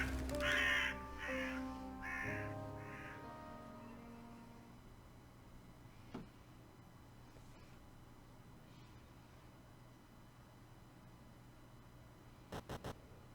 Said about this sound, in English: he is interrupted by a visit of a majestic raven